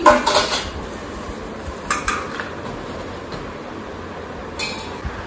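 Newly delivered plates and bowls clatter and clink as they are unpacked, with a sharp burst of rattling ceramic at the start and a few lighter knocks afterwards over a quiet room.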